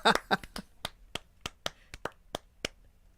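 Sharp hand claps in a loose five-count rhythm, a dozen or so crisp close strikes, briefly overlapped by voices at the start.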